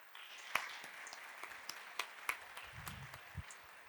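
Scattered hand claps from an audience greeting panel guests, a New Yorker editor and a journalist, sparse and fairly quiet with a few sharper individual claps standing out over about four seconds.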